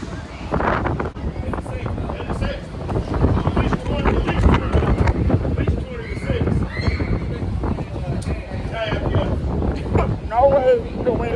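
Strong, gusty wind buffets the microphone in a continuous loud roar with rumbling bursts, while people talk over it throughout.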